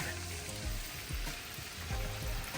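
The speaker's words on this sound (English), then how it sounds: "Now, to put them in the pan, they'll let it cook on each side for 4 minutes." Four chicken slices for chicken caprese cooking in a pan, giving a steady close sizzle with faint crackles and pops throughout and no voices.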